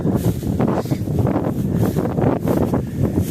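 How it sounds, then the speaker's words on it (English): Steady wind buffets the microphone outdoors near a lake park and athletic complex, a loud continuous low rumble with gusty surges throughout and no talking. "Man, that wind."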